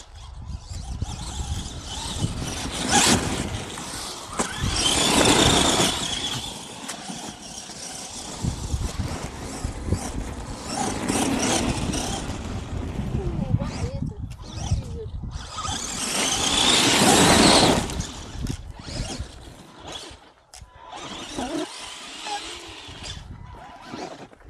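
Two Arrma Gorgon monster RC trucks drive with electric motors whining and tires spinning in loud surges, several bursts rising and fading, while people talk nearby.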